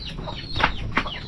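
Chickens clucking around an outdoor breakfast cooking spot, with two short, moderately loud squawks rising over a steady low background rumble, no speech.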